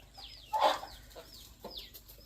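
A few soft clucks from a wild jungle fowl and chickens, one louder call in the middle, with quiet chirping bird notes around them.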